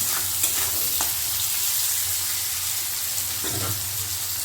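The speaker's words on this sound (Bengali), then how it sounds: "এবার পেঁয়াজটা দিয়েও কিন্তু আলুটা একটু ভেজে নেব" Potatoes and onions sizzle steadily in a hot pan for a cabbage dish with fish head, a dense continuous hiss with a few brief stirring scrapes, close and fairly loud with no talking.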